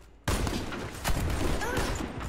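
Gunshots fired from the hip in a shooter video game, a sudden loud burst of rapid gunfire with a sharp crack partway through, dense and continuous after a brief quiet start.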